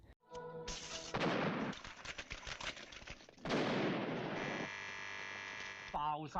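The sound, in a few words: firecrackers exploding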